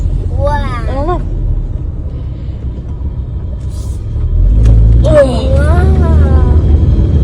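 A 2002 Mini Cooper engine rumbles steadily and grows louder as it revs, while people talk over it in excited voices.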